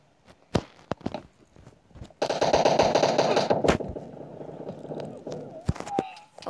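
Uzi submachine-gun fire in the PUBG Mobile team deathmatch game, with a sustained rapid burst over a couple of seconds, plus scattered single shots and footsteps around it, with voices talking nearby.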